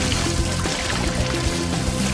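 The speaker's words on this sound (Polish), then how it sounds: "Pozostaje tylko napełnić go wodą." Water pouring in to fill a pool, a loud, continuous close rushing splash with no break across the short span.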